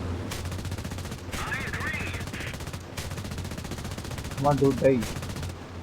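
Rapid bursts of aircraft machine-gun fire from a combat flight game, crackling steadily under a constant engine drone while a man mutters excitedly, with a louder cluster of shots near the end.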